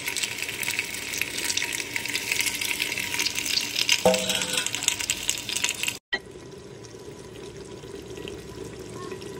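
Water gushes and splashes into a handi pot of chicken pieces on the stove, a loud, steady near pour that breaks off abruptly, leaving a quieter hiss and bubbling underneath.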